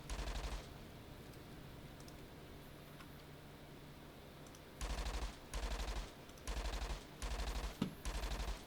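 A big gun fires in the video game Entropia Universe during a Christmas Eve hunt, first a short burst, then after a lull several rapid bursts in quick succession, loud and close with no talk.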